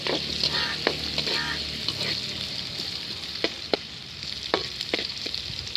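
Onions with a little salt sautéing in a pan until golden for a village-style snail curry: a constant close sizzle and hiss with scattered sharp stirring clicks and taps, no speech.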